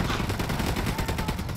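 A vehicle-mounted gun in the Ghost Recon Wildlands video game fires a dense, continuous burst of rapid automatic shots, loud and close, with no pause across the short stretch.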